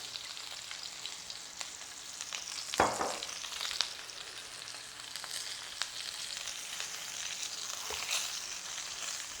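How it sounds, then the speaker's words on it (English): Chicken pieces fry in oil in a stainless steel pan with a continuous soft sizzle, scattered crackles and a couple of louder spits and clatters from handling the pan. "I'm gonna add some more oil for the next 2 pieces."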